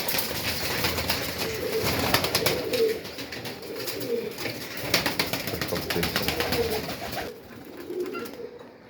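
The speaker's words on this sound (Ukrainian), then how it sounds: "Так, голуби літають." Pigeons in a backyard loft, soft low cooing under a busy flutter of flapping wings, repeated bursts of nearby wingbeats that thin out toward the end.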